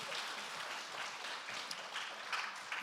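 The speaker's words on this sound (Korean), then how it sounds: "우리 하나님께 더 크게 영광의 박수 하겠습니다." A church congregation claps together in praise of God, a soft, steady wash of applause heard from a distance at low volume throughout.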